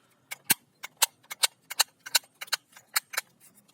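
A toy cowboy cap gun fires a rapid irregular series of about a dozen sharp, close popping snaps over a few seconds, with no voices.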